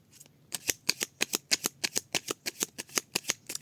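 Cards drawn from a deck one at a time in a quick, regular run of about fifteen crisp snaps, close and clear with no talking.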